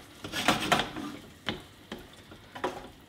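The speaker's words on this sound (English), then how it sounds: "Get all of that stirred through." Tomato paste is stirred into a pan of bolognese sauce with a spoon, giving soft scraping and a few sharp knocks against the pan, spaced irregularly, with a faint sizzle under them.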